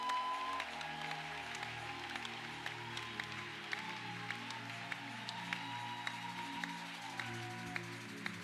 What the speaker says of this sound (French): on l'acclame, on le reçoit.